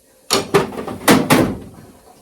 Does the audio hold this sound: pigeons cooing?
no